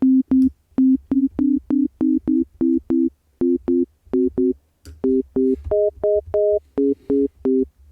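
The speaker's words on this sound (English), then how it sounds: "already there we're getting a bit more of an organ sound" Short, clean organ-like tones built from sine waves in the Serum synthesizer pulse in a steady rhythm, mostly on one pitch, then step up to higher notes before settling back down.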